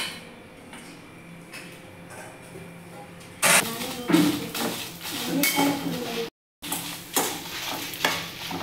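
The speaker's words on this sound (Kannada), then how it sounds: "ಇದನ್ನೆಲ್ಲ ಚೆನ್ನಾಗಿ ಫ್ರೈ ಮಾಡ್ಕೋತಾ ಇದ್ದೀನಿ." Fenugreek seeds, cumin and dried Byadgi and Guntur red chillies frying in a pan, a steady close sizzle with scraping stirs and clinks of the spoon against the pan, briefly cut off near the end.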